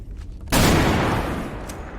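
Gunfire in a Grave Diggers video game, a sudden loud burst that swells then fades into rumbling echo after a quieter opening, no talk.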